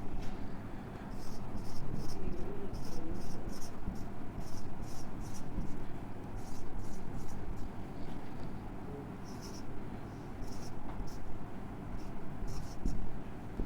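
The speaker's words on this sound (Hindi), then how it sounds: "अब देखिए मैं यहाँ पे लिख रहा हूँ" Pen or marker strokes scratching out a long string of handwritten numbers, a steady run of brief scraping strokes close by against a constant background hiss.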